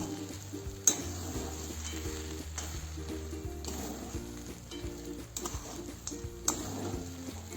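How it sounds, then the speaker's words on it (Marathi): Fried peanuts being stirred into upma in a pan, with steady soft scraping and stirring strokes under a low continuous background hum. "आपण जे शेंगदाणे तळून घेतलेले होते ते शेंगदाणे घालते आता यामध्ये आणि हे आता पूर्ण असं मिक्स करून घेऊया"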